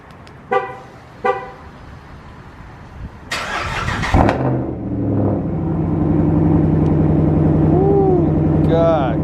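A truck engine starting in 40-degree weather after sitting through a snowstorm: a couple of short horn-like toots, a cranking burst, then the engine catches and settles into a steady loud idle with light revving.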